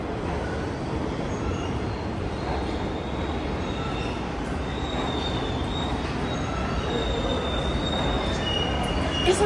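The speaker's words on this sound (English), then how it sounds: "Anyway, so it's the subway." A New York City subway train runs loud and steady throughout, with a heavy continuous rumble and high metallic wheel squeals drifting in and out above it.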